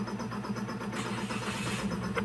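A Toyota Wigo engine is restarted after its check engine light was cleared for a misfire. It runs close and steady with a low, even mechanical drone and no talking.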